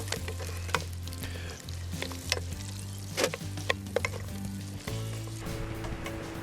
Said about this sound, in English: tip in the sliced chorizo and diced pork. Stir these around for another few minutes.